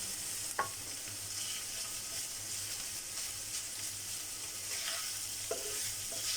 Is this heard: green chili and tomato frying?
yes